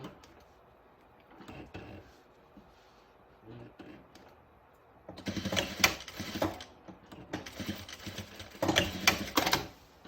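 A sewing machine stitches fabric for a tracksuit with a welt pocket, running in two loud, dense bursts in the second half after quieter handling and shuffling sounds.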